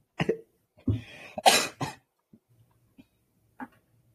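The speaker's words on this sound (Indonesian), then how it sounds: "Kemarin udah sembuh, batuk lagi." Several sharp, close coughs in a quick cluster, followed by a few faint throat sounds and breaths in an otherwise quiet room.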